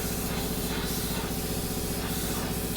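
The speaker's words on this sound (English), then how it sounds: "Burnt bronze Cerakote. I'm trying to spray it on quick here." Steady, continuous hiss of a spray gun applying burnt bronze Cerakote to a Yamaha YZ426F flywheel cover, close by and unbroken, with a low mechanical hum underneath.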